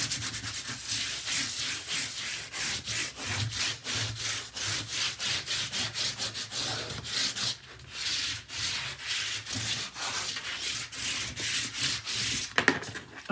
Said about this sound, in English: Now we burnish.